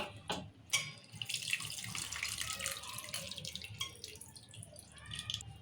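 Tamarind gravy (pulusu) pours and drips into a pan of bitter gourd curry, a close, steady wet splashing and trickling that runs throughout with no voices.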